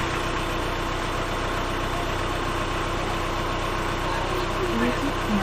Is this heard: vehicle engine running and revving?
yes